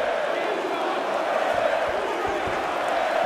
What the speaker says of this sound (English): Man, this crowd loves Junior Dos Santos and his all-out aggressive arsenal.